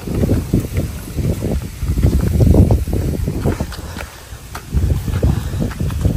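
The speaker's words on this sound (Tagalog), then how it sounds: "Ito yung hangin, no?" Gusty wind buffets the microphone in a mountain area, coming in rumbling low surges that swell and ease irregularly, fairly loud and with no voices.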